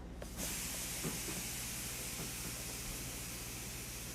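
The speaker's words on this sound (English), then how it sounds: "You hear our brakes hissing." Air brakes hissing on a heritage passenger train of the Strasburg Rail Road, a sharp onset followed by a long, steady, broad hiss at moderate level.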